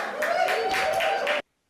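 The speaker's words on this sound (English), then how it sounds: "That was my graduates with the loudest cheer there" A comedy club audience cheers and claps in a dense, rolling wave of applause and voices that cuts off abruptly.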